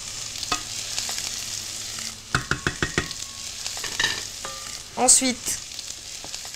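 Button mushrooms fry with onion and garlic over medium heat, a steady broad sizzle running throughout, broken by a quick series of utensil clinks and scraping stirs near the middle and end; a voice speaks one brief word at the start.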